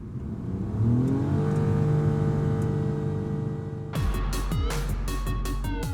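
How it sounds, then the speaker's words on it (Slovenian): A Toyota Aygo small city car's engine revs hard under acceleration, its tone climbing and holding a strained drone before a burst of sharp clicking and rattling near the end, with no voices. "pri dinamični vožnji se motor po njegovi zaslugi zaganja in tudi precej glasen je"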